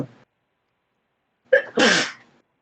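A single sharp sneeze bursts out close and loud after a brief pause, with a quick intake of breath just before it.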